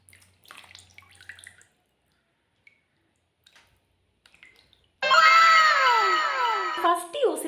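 Water splashes loudly as a face pack is rinsed off during a home Korean-style skincare routine, starting abruptly after quiet moments of faint movement and continuing steadily to the end.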